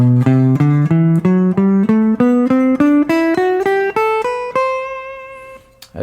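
A guitar plays a major scale three notes per string, climbing in about fourteen evenly spaced plucked notes, then the top note rings out and fades.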